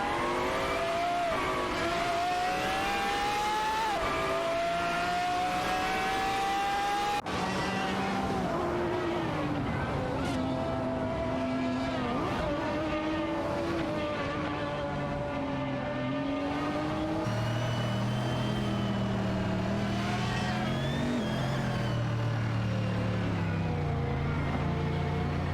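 Race cars in an AI-driven video game race, several engines whining and shifting pitch as they accelerate and pass one another, a continuous layered drone throughout, fairly quiet overall.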